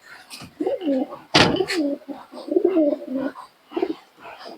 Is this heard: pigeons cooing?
yes